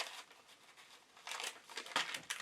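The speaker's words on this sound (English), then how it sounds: "I'm going to fold those back, and I think I want to create a flap there" A paper bag being folded into an envelope flap, giving close, soft crinkling and crumpling bursts that swell and fade over a couple of seconds, with no voices.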